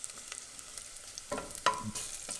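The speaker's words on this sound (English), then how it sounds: "So we're using about a tablespoon of oil right here to kind of get these all nicely sweated." Onions sweating in a tablespoon of oil, a soft, quiet sizzle with a few light stirring clicks and scrapes, close and without talk.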